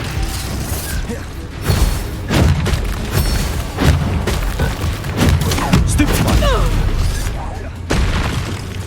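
Confringo fire spells explode during a Hogwarts Legacy battle: repeated booming blasts and crackling bursts land about every second, loud and dense, layered with mechanical game effects and shouted character voices.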